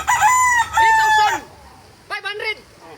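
A rooster crows loudly nearby, one long strained call followed after a pause by a shorter second crow.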